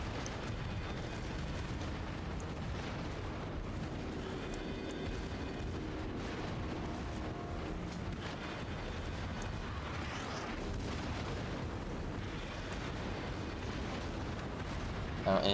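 Naval guns bombard from a warship in a video game, sending heavy repeated booms over a continuous dense rumble that rolls on for about fifteen seconds.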